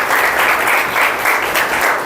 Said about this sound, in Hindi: इनके माता पिताओं के लिए भी एक बार तालियों से स्वागत कर दीजिए।